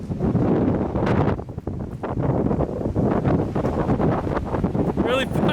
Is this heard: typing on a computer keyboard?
no